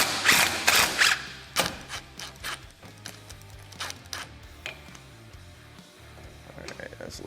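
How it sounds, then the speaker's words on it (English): Ratchet clicks and clunking hardware as a bolt and nut are loosened on the roof of a Kawasaki Teryx KRX 1000, irregular bursts of close mechanical clatter with a voice talking at times. "So we just want to loosen it to where we have just a few threads on our nut here."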